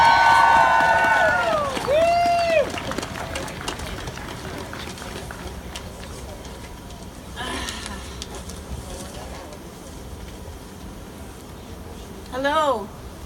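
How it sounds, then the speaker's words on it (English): Crowd cheering at the 2018 Women's March rally in Halifax, with rising whoops and calls. There is a louder burst at the start, then scattered shouts fade in and out over a murmuring crowd. "Big round of applause for Liane Tessler, please."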